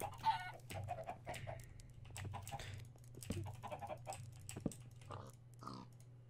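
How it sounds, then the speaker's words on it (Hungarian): Chickens in the Minecraft video game cluck repeatedly in short, overlapping calls over a steady low in-game hum, several birds sounding close together with no talk. "Na, csirkék, gyertek!"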